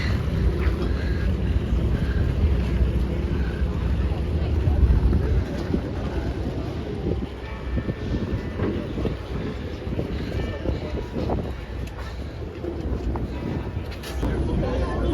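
A boat on a river trip passing under the Iron Bridge in Frankfurt: a steady engine rumble and water wash mixed with gusty wind buffeting the microphone, with people talking over it.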